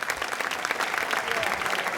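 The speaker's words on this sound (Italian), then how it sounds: "Era partito un applauso secondo me più forte e ancora meglio." Audience applause from a crowd gathered in Piazza Manzoni in Jesolo during an evening event, a steady dense wash of clapping at moderate level throughout, with some murmur mixed in.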